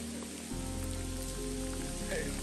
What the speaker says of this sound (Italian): Non è facile con questa pioggia e adesso sta arrivando anche il freddo.